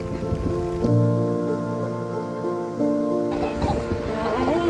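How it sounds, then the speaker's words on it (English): Heavy downpour drumming on surfaces along the coastal Camino route, a steady wash of rain with tonal background hum, no clear talk over it. "It just started downpouring on us"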